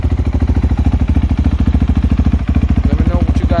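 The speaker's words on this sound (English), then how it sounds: "Give you a couple revs so you can hear it." A 2022 Honda CRF450RL motorcycle with an FMF exhaust runs close by in a steady, rapid pulsing idle, a brief dip near the end before the engine picks up again; wind noise in the background.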